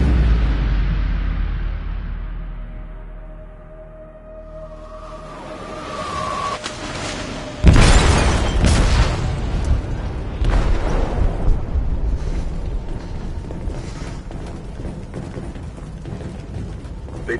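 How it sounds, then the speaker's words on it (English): A big explosion deep in a ship's hold in the game Detroit, a sudden heavy boom that follows a quieter rumbling build and then gives way to a long, rumbling, clattering aftermath of groaning machinery and debris. "They detonated an explosive in the hold."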